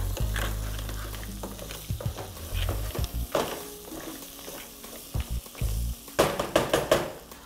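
Crabs frying in a pot for a crab stew, loud sizzling under a series of sharp scraping and clattering stirs that grow busier toward the end, up close with no talking.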